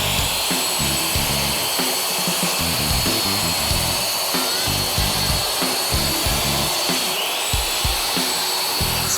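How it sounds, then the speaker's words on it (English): Coarse diamond grinder working across a resin floor, a loud continuous motor whine with gritty, pulsing low-end scraping as the machine is pushed and pulled steadily, with no talk over it. "This is a diamond grinder, Simon, and it's really coarse."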